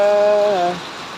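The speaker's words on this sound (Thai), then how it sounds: "ฝนตกหนักเลยจ้า" Heavy rain pours down in a steady, close broadband hiss that runs through the whole moment, with a brief tonal hum at the start that fades away partway through.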